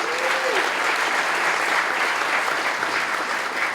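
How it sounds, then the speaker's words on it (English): A large audience applauds at a tech convention in a Santa Clara convention center hall, producing a dense, steady wash of clapping that holds at full strength throughout. "Let's give a big round of applause for them."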